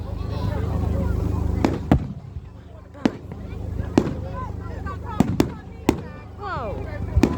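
Bonfire night fireworks launching high into the night sky, with several sharp bangs and crackling bursts spread across the stretch, heard over a steady crowd murmur and nearby people talking.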